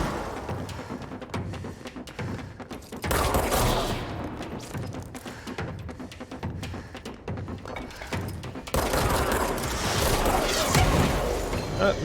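Dense, sustained video-game gunfire, with rapid shots and crashing impacts running nonstop, swelling louder in bursts and forming a loud, busy, close battle din.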